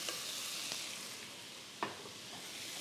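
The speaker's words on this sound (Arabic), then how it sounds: "بنزل الجمبري على البصل والفلفل" Shrimp frying over onion and pepper in a pan gives a steady soft sizzle, with a few light clicks of stirring, fairly quiet and without voices.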